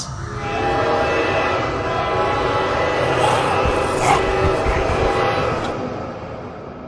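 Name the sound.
train moving in Indian Bikes Driving 3D video game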